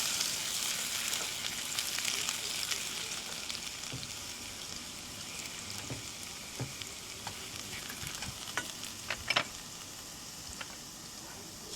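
Garlic sizzles and crackles steadily in a hot pan, a dense close frying hiss with occasional sharper pops and stirring scrapes throughout, no voices.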